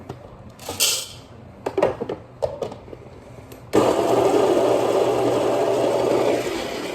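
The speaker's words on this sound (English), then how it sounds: "But now we're gonna grind our coffee." Coffee beans are handled with a few clinks and rustles, then a Baratza Encore burr grinder set to 19 starts and grinds with a loud, steady whirring drone close by until the end.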